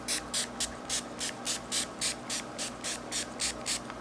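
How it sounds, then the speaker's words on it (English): A series of short face-mist sprays pumps out in a quick, even rhythm, about fifteen soft puffs, close by with no speech. "I'm going to go ahead and spray my face down with the Farsali Rose Gold Skin Mist"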